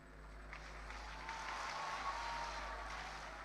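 An audience at the SSVM Transforming India Conclave applauds to welcome a speaker: steady, fairly soft clapping from a hall full of people, swelling slightly and sustained throughout with no voices over it.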